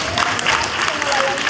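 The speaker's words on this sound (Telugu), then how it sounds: "చప్పట్లు కొడతారా?" A church congregation in Maligaon claps together, a thick, continuous roar of many hands filling the room at close range.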